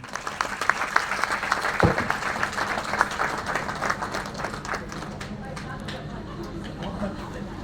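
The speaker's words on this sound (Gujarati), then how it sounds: "તાળીઓના ગડગડાટથી ચાલુ રાખો" Scattered applause and clapping ring out at a family get-together, a moderate, ragged patter of hands that continues under background voices and fades slightly toward the end.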